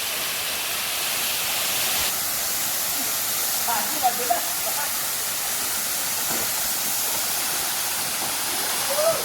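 Steady broadband rush of Tuay Falls, a waterfall in Montalban, Rizal, filling the whole stretch at an even level, with faint voices and brief splashes of people wading near the water.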